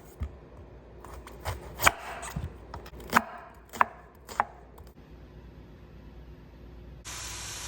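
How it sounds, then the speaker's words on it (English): Knife chopping a sweet yellow onion on a board: a series of crisp, uneven cuts, close and fairly quiet, fading out toward the end as a hiss of sizzling takes over, with no talking. "Got one sweet yellow onion that I'm gonna get chopped up."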